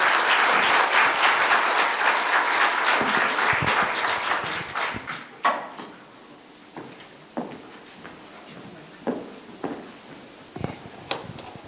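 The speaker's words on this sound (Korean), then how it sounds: "큰 박수 부탁드립니다." An audience applauds to welcome a lecturer at a science symposium, loud dense clapping that thins out after about five seconds into scattered claps and a few footsteps.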